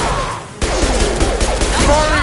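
Dense burst of sci-fi gunfire from an impact shot in Mass Effect, loud and rapid after a brief quieter lead-in, with overlapping shots filling the clip.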